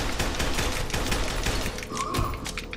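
Dense, rapid gunfire from the first-person shooter Fear 2, near and loud, shots overlapping into a continuous volley across the whole stretch with no voices.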